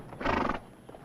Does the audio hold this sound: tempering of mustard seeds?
no